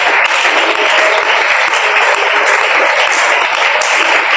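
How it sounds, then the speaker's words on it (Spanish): A church congregation claps steadily and loudly in dense, continuous applause during a Spanish-language worship service about the Holy Spirit, filling the whole stretch with no voices standing out. "Aplauda por favor su presencia."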